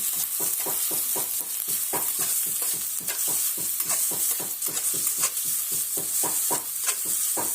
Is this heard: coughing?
no